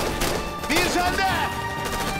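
Rapid gunfire crackles in a dense burst across the whole moment, with a voice briefly audible beneath the shots.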